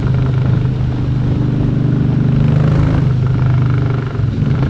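A Harley-Davidson motorcycle cruises on the road, with a loud, steady low engine rumble mixed with heavy wind rush throughout, heard from the rider's position.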